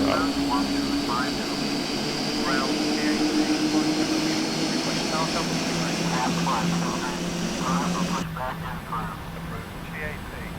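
Boeing 747-8 jet engines spool up during engine start in a flight simulator game, a steady loud whine and rumbling roar holding for the whole stretch while speech runs over it.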